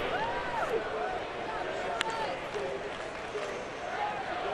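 A large baseball stadium crowd of over thirty thousand at a Mariners game cheers in a steady distant roar, with rising chant-like swells and a sharp crack partway through, while a voice talks over it.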